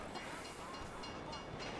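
Train rolling past in Grand Theft Auto V, a steady broadband rumble and hiss holding at even loudness throughout, close by with no talk over it.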